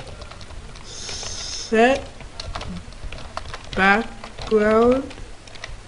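Computer keyboard typing in a programming session, light scattered key clicks under a man's speech that comes in short loud bursts.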